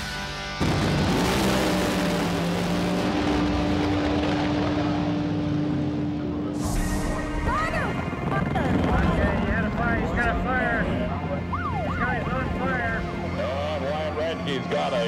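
Loud roaring high-octane Mirage entry car tears past up close at a race event, its engine dominating, followed by shifting revs and whines while people talk over it.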